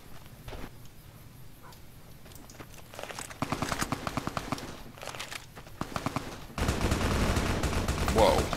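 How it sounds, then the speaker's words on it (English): Rapid bursts of automatic gunfire in the video game Fallout: New Vegas crackle in quick rhythmic volleys, growing denser and louder toward the end, with no voices present. "Whoa, that is some serious gunfire."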